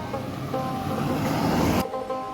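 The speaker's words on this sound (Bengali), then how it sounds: "আমাদের গাড়ি" A car rumbles steadily along a winding mountain road near the Karnataka–Kerala border, with broad engine and road noise that cuts off abruptly near the end, leaving a quieter hum.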